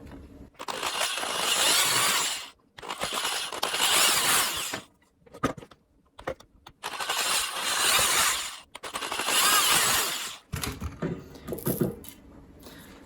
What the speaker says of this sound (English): I'm just using a drill and a drill bit that's slightly smaller than the threads of the screw.